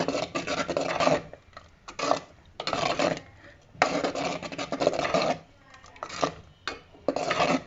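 Grated coconut is stirred into kurukku kalan for a Kerala sadya. A spoon scrapes and rubs in a pan in a run of close, rhythmic strokes separated by short pauses.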